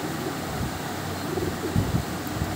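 Giribaj pigeons of kalpora, kaldum and kala-sabuj colour varieties coo softly in low, throaty bursts over a steady background hiss, the calls growing a little stronger toward the end.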